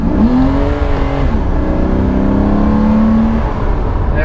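Cheap secondhand Ferrari with a 5.2 engine and a suspected fault, accelerating hard on a straight road; a loud, steady engine roar climbs in pitch through the gears, heard from inside the car with no talk.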